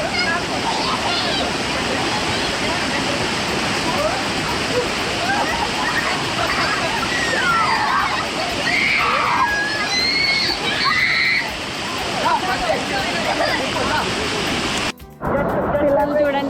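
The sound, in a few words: Aira Force waterfall in the Lake District, UK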